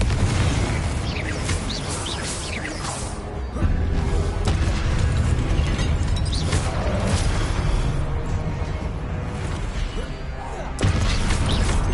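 A Confringo explosion spell in Hogwarts Legacy: dense, loud rumbling blasts and crashes that run continuously, with sharper bursts at intervals and no clear pauses.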